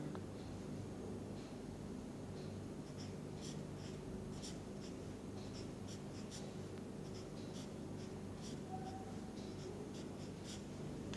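Marker or pen strokes scratch across a board as molecular orbital diagrams are drawn during a chemistry lecture, giving a string of soft, irregular scrapes over a steady hiss of room noise.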